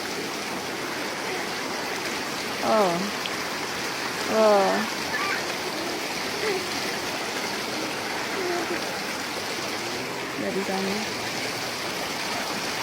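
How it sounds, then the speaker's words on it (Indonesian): A clear, shallow river rushes steadily while people wade across it, a constant close broadband wash with short bursts of voices over it. "Aku nyebrang sungai ya guys."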